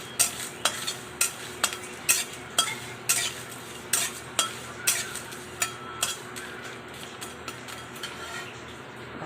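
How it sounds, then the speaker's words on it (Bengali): Spices fry in a pan for mango chutney under a soft sizzle, with a sharp spatula scrape against the pan about every half second, close and steady. "মশলাটা আমি ভেজে নিয়েছি"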